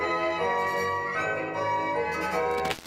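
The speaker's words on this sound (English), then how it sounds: "ring this small notification bell" A bright notification bell sound effect rings, sustained chiming tones that fade slightly before a sharp cutoff at the end, heard alone.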